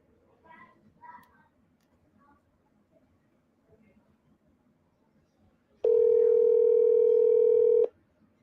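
A phone call ringing out unanswered: faint speech and background murmur, then a steady loud ringback tone holding for about two seconds before cutting off.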